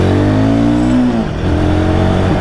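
A 2024 Royal Enfield Guerrilla 450 motorcycle engine revs up close, rising in pitch for about a second, then dropping back to a steady, rumbling idle.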